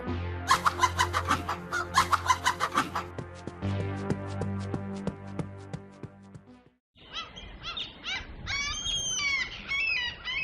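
Cartoon chickens clucking and squawking as a thief grabs them at night, rapid rhythmic clucks in bursts, then a busier stretch of scattered high squawks and chirps after a brief gap.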